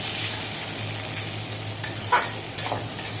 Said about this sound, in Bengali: তো এবার আমি একে তেল দিয়ে বেশ ভালোভাবে উল্টে পাল্টে ভেজে নেব।